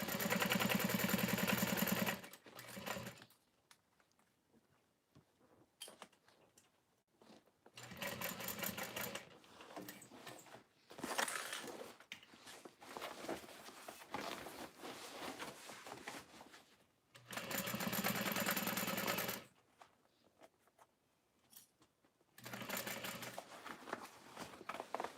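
A sewing machine stitches a Snow Drop satchel in several loud, rapid bursts of whirring, separated by quiet pauses, recorded up close.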